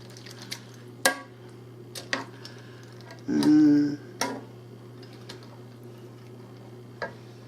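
Spoon scraping and tapping in a pot of cheesy one pot pasta with meat, a few sharp clinks spaced through the stretch and one longer thick stirring sweep, over a steady low hum, no talking.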